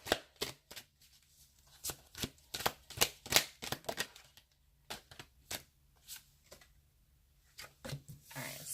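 Tarot cards being shuffled by hand up close, a string of quick crisp riffling bursts and soft taps spaced irregularly, fairly quiet, with a brief voice near the end.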